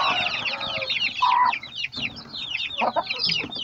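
Chinese-breed chickens and newly hatched chicks cluck and cheep close by in a busy, overlapping chorus of short calls, with no talking.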